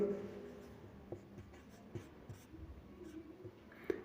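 Pen scratching out an answer during a Class 6 algebra lesson, soft and close, with faint rustles and a few small taps over a low room murmur.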